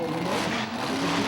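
At a monster truck event, a truck's engine drones and revs as it creeps up onto a stack of crushed cars, a steady muffled roar heard from a distance in an arena.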